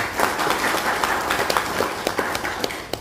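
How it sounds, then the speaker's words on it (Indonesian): Applause from an audience at a formal speech by a former KNPI youth committee official in Lanny Jaya, with scattered claps rising and falling for a few seconds. "Kita beri aplaus."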